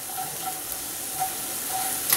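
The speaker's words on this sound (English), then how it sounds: "just cooking some of that excess alcohol out of there." Cognac bubbling off its alcohol in a hot pan after searing a blackened New York strip steak, a steady close hiss and sizzle with faint crackles, no one speaking.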